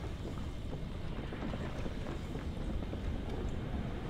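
Steady low rumble of a moving train carriage in the dark puzzle video game DARQ, a continuous dense drone with faint rattling, constant in level and without voices.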